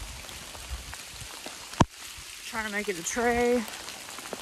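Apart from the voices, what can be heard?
rain falling on hiking trail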